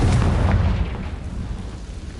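The Confringo spell explodes in Hogwarts Legacy with one heavy, booming burst that rumbles loudly and close, then slowly fades over the next couple of seconds.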